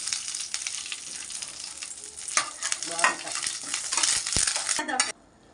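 Curry leaves spit and sizzle in hot oil in a pan on a home stove, a loud crackling fry with stirring and scraping against the pan, which cuts off abruptly near the end.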